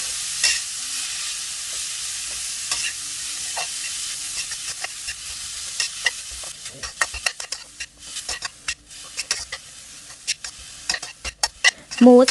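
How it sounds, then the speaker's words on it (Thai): Minced pork and chopped shallots stir-fried in a hot wok for a sago pork-filled dumpling snack: a steady broadband sizzle runs throughout, with scraping and clattering stirring strokes that turn busier and more rhythmic toward the end, and no talking. "เราก็จะผัดทั้งสองอย่างไปจนกว่าทั้งสองอย่างจะสุกก่อนค่ะ"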